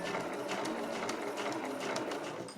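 A sewing machine hums steadily at close range, stitching along a small curved pouch of Marimekko fabric at a 12 cm zipper, its needle chattering in a fast continuous rhythm.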